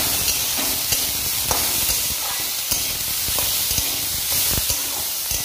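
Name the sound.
bitter gourd frying in pan with salt and turmeric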